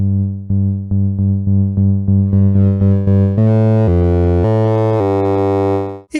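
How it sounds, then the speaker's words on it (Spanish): Arturia MicroFreak synthesizer bass line with distortion dialed in on the Timbre knob, a run of short plucked notes that lengthen into sustained ones and grow buzzier and brighter, loud and up front, no voices. "Con el potenciómetro de timbre podemos agregar distorsión."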